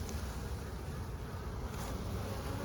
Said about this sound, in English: there's one serious bunch of bees up here